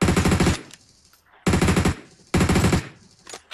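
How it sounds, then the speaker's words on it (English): Three loud, close bursts of rapid automatic gunfire in PUBG Mobile, each lasting about half a second, separated by brief gaps with a faint trailing echo. "I'm just throwing shots in that direction to keep their heads down"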